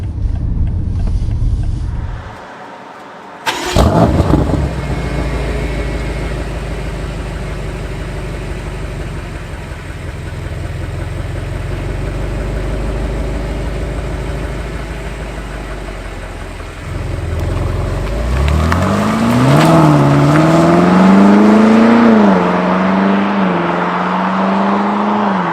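A 2018 BMW M5 heard from outside: a steady engine rumble and idle under a brief gap, then the engine revs and the car pulls away with a rising, wavering roar.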